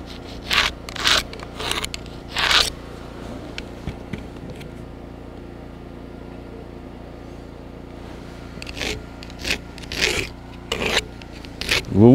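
A level drags along a log to scribe a marking line during Canadian-style log cabin framing, with short rasping scrapes in bursts separated by a quiet pause, close up and without speech.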